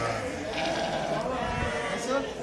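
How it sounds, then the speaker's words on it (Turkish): Ewes with lambs, some Merino crosses, bleating steadily at a busy Turkish livestock market in Akhisar, Manisa, with overlapping calls near and far under constant crowd chatter. "Hepsi kuzulu koyun."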